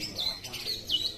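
Green leafbird (cucak ijo) singing at a bird competition, giving short bright chirps and whistled notes in quick bursts over about a second, fairly close, with a low background murmur.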